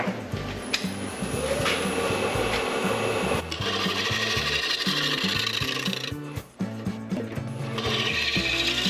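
Wood spins on a lathe while a tool takes repeated passes at a heart-shaped bowl. A steady rhythmic whirring and scraping continues close up, with one short dip near the end.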